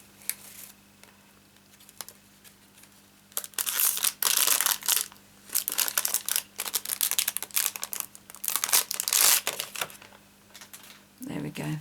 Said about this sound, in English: I'm going to try and undo this without creating too much rustling.